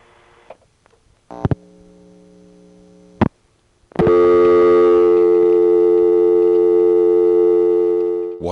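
A few brief clicks and short tone bursts on a telephone line give way to a loud, steady local reorder tone that holds for several seconds before cutting off.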